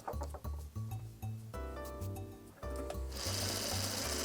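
A sewing machine stitches a quilt block up close, short rhythmic bursts of needle clatter that join into a faster continuous run at the end.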